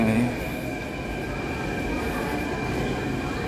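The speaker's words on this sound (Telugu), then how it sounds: "Delhi metro station" A Delhi Metro train at a station gives a steady rumbling hum with a high whine from the wheels, heard close and continuous throughout with crowd murmur in the background.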